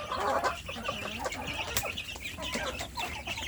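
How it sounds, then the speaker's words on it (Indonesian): Young native village chickens in a rearing box keep up a busy, continuous chorus of high chirps and peeps, close and fairly loud with no pauses. "memberikan kehangatan pada anak ayam kampung di dalam kotak pembesaran"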